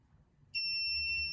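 The buzzer of a PIR-sensor visitor counter at an entrance door goes off after a short quiet pause, a loud, steady, piercing electronic tone held without a break.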